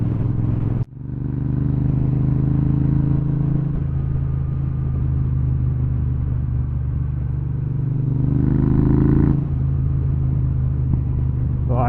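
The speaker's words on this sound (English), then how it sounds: "Get quite a few little pops out the back of the exhaust." A Triumph Bobber motorcycle idles and rides with a steady low exhaust rumble, a sharp burst near the start, then a brief rev swell before settling, heard close and alone without talk.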